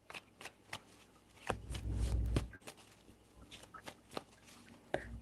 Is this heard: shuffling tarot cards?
yes